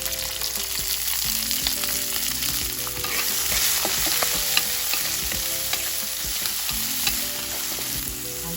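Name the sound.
frying garlic, red chilies, green peppers, green onions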